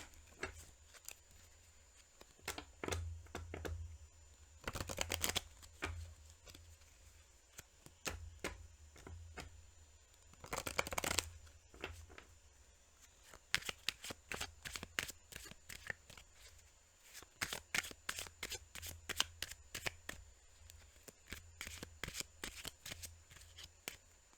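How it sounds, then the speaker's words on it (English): Cards being shuffled repeatedly, with bursts of rapid riffling clicks and longer flurries of snapping card edges, fairly close and alone. "Give these a little shuffle here."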